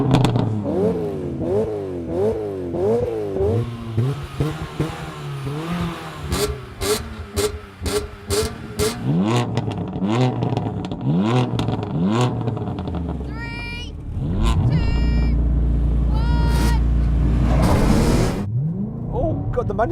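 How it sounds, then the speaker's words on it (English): Several generations of BMW M3, including a manual car, launch in a drag race. Engines rev and climb repeatedly through the gears in rising, sweeping pulls, loud and close, ending in a sustained high rumble. "And we're going to have a drag race."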